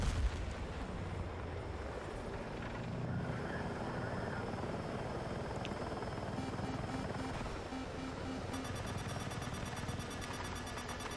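Helicopter flying in the video game Battlefield 6, a loud, steady rotor and engine roar that runs unbroken through the whole stretch, with faint gunfire and explosion-like thuds from the battle mixed underneath.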